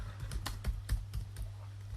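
Quick bursts of key presses on a computer keyboard, irregular clicks and clacks close by over a low hum, with no speech.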